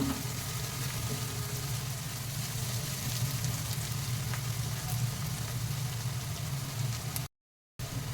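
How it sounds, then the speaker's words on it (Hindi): Onions fry in a pan for cauliflower sabzi, making a soft, even sizzle with a low hum underneath, broken by a brief silent gap near the end. "प्याज को हम अच्छे से भूनेंगे।"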